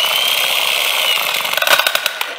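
A jackhammer under repair runs with a steady high-pitched mechanical whine, then breaks into a short burst of rapid hammering pulses near the end, loud and close.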